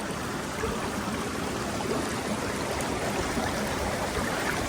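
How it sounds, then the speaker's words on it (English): Water trickles and gurgles out from under a beaver dam in a creek, a steady, soft, close-up flow with a continuous rushing texture and no voices. "they still got some water coming from underneath it"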